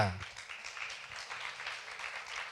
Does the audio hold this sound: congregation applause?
yes